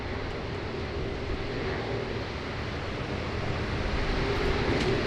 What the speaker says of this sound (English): Another classic heavy departure of the United Airlines Dreamweaver.